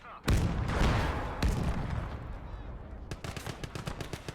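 Video-game gunfire aimed at a tank's top turret: a heavy burst opens, another shot follows, then rapid repeated automatic shots rattle loudly through the final second.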